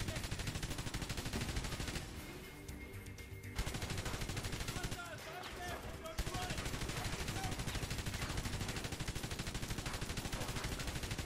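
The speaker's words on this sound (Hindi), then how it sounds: "ये तो आर्मर्ड मशीन गन है" Loud, sustained automatic fire from an armored machine gun in the war video game Frontlines: Fuel of War, dense rapid bursts with brief lulls around a couple of gaps, close and continuous.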